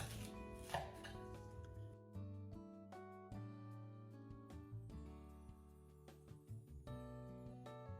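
A knife cuts through a potent onion on a cutting board, giving a steady run of close, crisp chopping strokes with a few sharper knocks against the board, and no voices.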